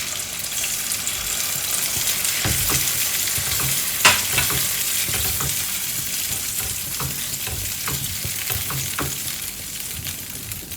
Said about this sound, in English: I'll reduce the heat and add in a coconut milk